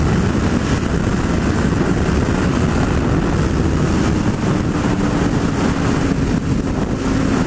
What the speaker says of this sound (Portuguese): O vento tá tenebroso na cabeça